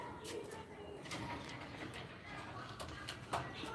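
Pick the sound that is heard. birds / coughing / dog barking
birds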